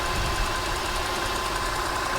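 A Mazda RX-8 rotary engine runs steadily at idle, a close, even buzzing hum with a fast regular pulse and no talk.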